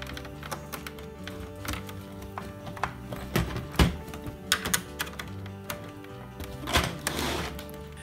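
Key switches on an Acorn Electron computer keyboard are pressed one after another while the machine is switched on, giving a steady run of close, crisp clicks and thunks with a few louder clustered presses and no talking.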